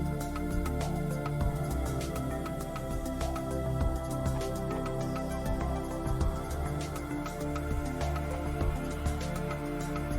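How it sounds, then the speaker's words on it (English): Read heads of a Toshiba laptop hard drive clicking repeatedly during startup, a series of sharp irregular ticks over a steady mechanical hum, close and fairly quiet, with no talking. "the clicks you are listening at the startup are the sounds produced by the heads in the attempt to align properly"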